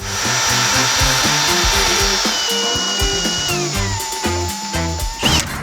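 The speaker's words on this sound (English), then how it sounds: "Just need to drill some holes" A power drill bores a half-inch hole for a go-kart build, running steadily and loudly, its motor pitch sliding down, with chattering grinding underneath and a sharp snap near the end as the bit breaks.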